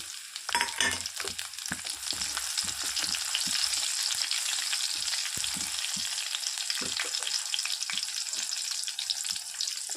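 Cumin seeds and green chillies sizzling in hot oil in a kadai, producing a loud, steady crackling fry that persists throughout with no talk.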